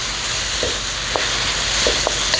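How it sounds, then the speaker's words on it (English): Baby bok choy stir-fries with oyster sauce, ginger and garlic in a hot pan, giving a loud steady close sizzle with a few faint clicks of stirring. "Stir fry it so every part of that vegetable gets a little bit of that oyster sauce."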